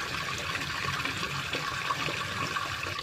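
Water poured into a pigeon drinker, a steady close splashing and trickling of liquid filling a container, continuous for the whole stretch with no talk over it.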